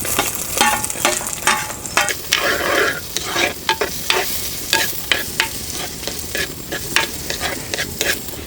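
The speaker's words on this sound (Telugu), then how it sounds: "నూనె వేడెక్కగానే కోసి పెట్టుకున్న ఉల్లిపాయ పచ్చిమిరపకాయ ముక్కలు వేసుకుందాం" Chopped onions and green chillies frying in hot oil in a pan, a steady close sizzle punctuated by repeated scraping and clinking stirs of a spoon against the pan.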